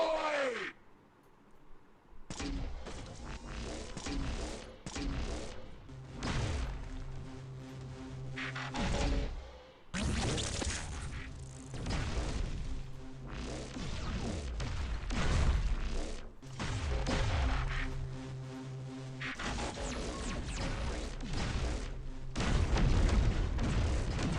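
Shotgun fire in the Transformers Earth Wars mobile game during a base attack: repeated sharp blasts and booms in irregular bursts over busy game music and effects, loud and close throughout.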